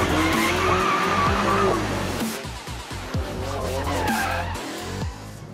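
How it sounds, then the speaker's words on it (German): A BMW M4 GTS sports car with a 500 hp engine is driven hard on an empty airfield, its tires squealing and skidding loudly and continuously while the engine roars underneath. "Vorhang auf für das Traumtrio. M4 GTS, Matthias Malmedy und ein leeres Flugfeld."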